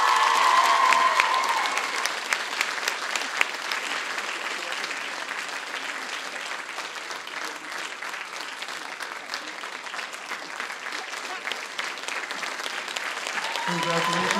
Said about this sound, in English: Let's have a round of applause for Erica Zatilla.